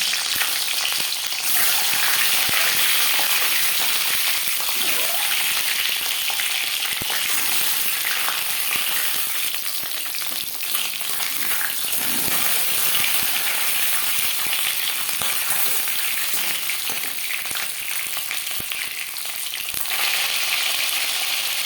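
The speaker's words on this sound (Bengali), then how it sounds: "চার চামচ রিফাইন্ড অয়েল গরম করে নিয়েছি এবার দিয়ে দেব ডিম" Eggs fry in hot refined oil with a dense, steady sizzle and crackle that fills the whole stretch, loud and close with no talking.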